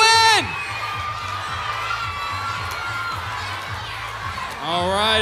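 A crowd of children at a church vacation Bible school shouts and cheers loudly for their team, a continuous roar of young voices with an adult voice calling out at the start and end.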